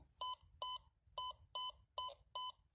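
Metal detector signal on a field search, six evenly spaced, sharp electronic beeps in a steady rhythm, close and clear over a low background rumble.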